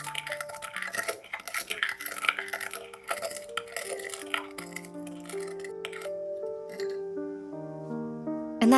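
Spoon clinks and scrapes in a bowl while a marinade of oyster sauce, sugar and white pepper is mixed for Cantonese beef chow fun, close and fairly quiet, with soft music tones running underneath.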